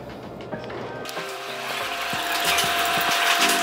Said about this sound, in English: I like to do the stop plate bolts by hand with a ratchet like this.